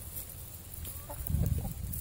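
A rooster in a back garden with chickens gives low, throaty clucks that swell louder toward the end, over steady outdoor background noise.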